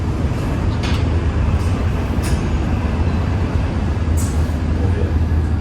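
Inside a high-speed bullet train in motion, a constant low rumble and rushing roar fill the carriage, steady and loud, with a few faint higher clicks.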